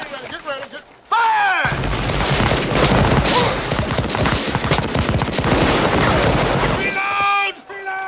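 Battle scene from the Civil War film Glory, with dense volleys of rifle and cannon fire roaring continuously for several seconds, framed by briefer quieter moments of voices and effects before and after.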